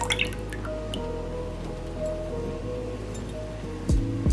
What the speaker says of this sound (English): add your 2 cups of milk